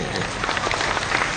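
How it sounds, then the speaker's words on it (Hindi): Audience clapping fills a hall after a devotional speech about Radha and Krishna, a dense steady patter of many hands that stays loud and even throughout. "अच्छी लगे तो पूरे सदन की तालियां चाहूंगा"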